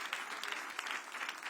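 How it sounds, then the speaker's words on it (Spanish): A dense burst of applause from an audience at a Spanish-language preaching event, steady and fairly loud throughout the short stretch, with no voices standing out. "Demos un fuertísimo aplauso a las redes sociales"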